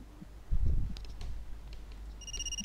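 In a Thai mystery-horror visual novel game demo, a telephone starts to ring with a steady electronic tone. A dull thump and a few soft clicks come first in an otherwise quiet room.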